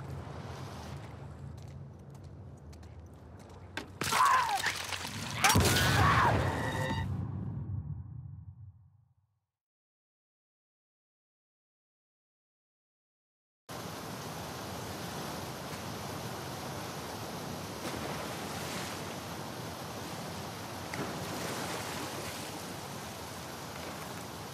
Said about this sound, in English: the player was faced with a fast-flowing torrent of water they couldn't cross